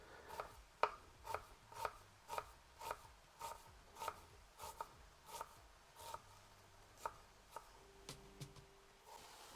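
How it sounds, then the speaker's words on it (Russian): A knife chopping a small onion into quarter rings on a board, about fifteen crisp, evenly spaced cuts in a steady rhythm, close and fairly quiet with nothing else over them. "Я специально купил такой лук и нарежу его небольшими четвертькольцами."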